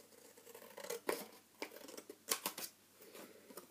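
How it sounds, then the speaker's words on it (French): Large scissors snip through an ATC paper card in a papercraft project, making a few close, crisp cuts separated by short pauses, quiet but clear with no speech. "Je prends mon gros ciseau pour ça."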